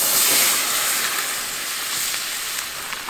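Marinated wallaby meat, juicy with orange juice, soy sauce, garlic and onion, sizzles loudly in a pan at a backcountry lake campsite, a bright hissing fry that is strongest at the start and then holds steady.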